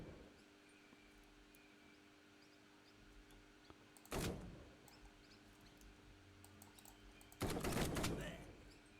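Two loud gun bursts from a weapon in the game Relicbound, each a short blast over a quiet hum with faint clicks between them, the second burst longer and heavier.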